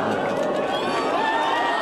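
A large crowd of about 3,000 chants stadium-style at an outdoor Lega rally in a town square in Prato, a dense, continuous roar of massed voices filling the space.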